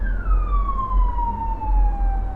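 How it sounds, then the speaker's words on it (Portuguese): A street emergency-vehicle siren passing nearby on a busy road, one long descending wail that slides steadily down in pitch over a low rumble of traffic. "Já está passando uma sirene aqui."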